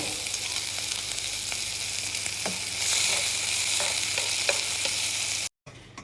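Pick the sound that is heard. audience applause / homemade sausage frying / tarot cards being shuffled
homemade sausage frying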